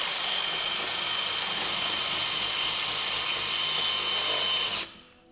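A power drill whines steadily as it bores a hole to mount a Badlands Apex 12,000 lb winch, running loud and continuous for about five seconds before cutting off abruptly.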